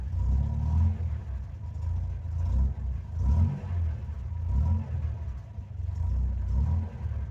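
An Opel Record car engine runs on gas at a low idle, a steady deep rumble with slight uneven pulsing throughout, close and fairly loud with no talking.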